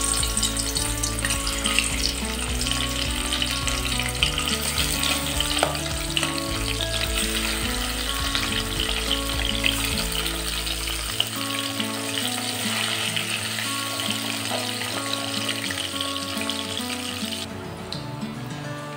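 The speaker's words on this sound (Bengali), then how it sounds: "এখন মাছগুলো হালকা করে ভেজে নেব।" Fish frying in mustard oil in a wok gives off a loud, continuous close sizzle with crackling spatters and occasional stirring, steady throughout with no voices.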